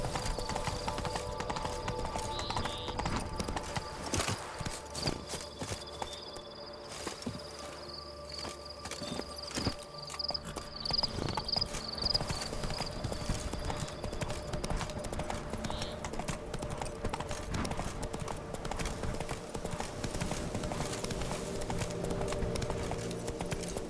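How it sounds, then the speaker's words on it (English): Horse hooves clip-clop steadily at a walking pace in The Witcher 3: Blood and Wine, a continuous rhythmic patter over a dense game ambience of background music and insect-like hiss. "Whoa there, Roach."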